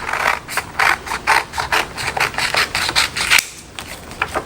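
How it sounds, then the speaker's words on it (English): Repeated crisp snips of scissors cutting through paper, about a dozen quick cuts in an uneven rhythm, close and fairly loud. "we're just gonna take scissors"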